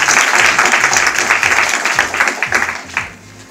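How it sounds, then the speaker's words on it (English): Audience applause at a Nashville chamber of commerce candidate forum, a full room clapping loudly and steadily before gradually thinning and fading toward the end. "Please, a large round of applause for Watkins College."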